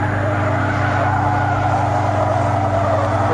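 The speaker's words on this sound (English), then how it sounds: "We're right on the edge, you can hear the tires squealing." A race car at its handling limit during oversteer, tires squealing in a sustained high whine over a steady engine drone, close and loud with no talking.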